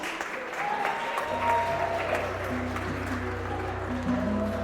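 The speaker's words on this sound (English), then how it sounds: "how about a big round of applause for Mike, who did such a great job with his speech" Wedding guests applaud after a speech, sustained crowd clapping throughout while a low musical tone and soft melodic notes start up beneath the applause and keep going.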